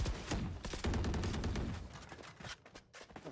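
Sheriff pistol shots in Valorant during a VCT EMEA Kickoff match, a rapid run of sharp cracks tightly clustered at first, then thinning into scattered single shots as the burst fades.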